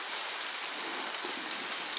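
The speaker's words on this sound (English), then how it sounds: "It's pissing down with rain" Steady rain hisses down continuously at Karaka Bay, a dense wash of drops with no voices over it.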